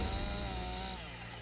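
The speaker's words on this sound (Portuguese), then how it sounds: "Para isso, usam uma motosserra." A chainsaw cuts through a rhinoceros horn during a dehorning operation in South Africa, its loud buzzing drone close and steady for a brief moment before easing slightly, with no voices over it.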